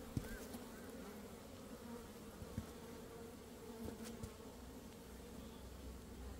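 Honeybees buzz steadily around an opened hive during a colony split, a faint continuous drone with occasional closer insects passing by.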